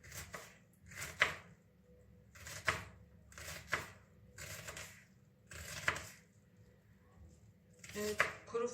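Onion being diced into small pieces with a knife for a dried bean soup, giving seven or eight sharp, separate chops spaced about a second apart over a quiet background.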